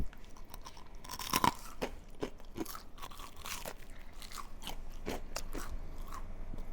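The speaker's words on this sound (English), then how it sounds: "You can hear the sound. So crunchy." Someone bites into extra-crunchy Chinese-style deep-fried shrimp, producing a series of sharp, close crunches and chewing crackles at an uneven rhythm, quiet between the bites.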